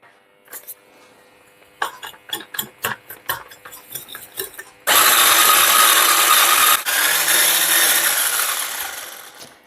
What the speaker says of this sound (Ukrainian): Збиваємо міксером до світлої пухкої маси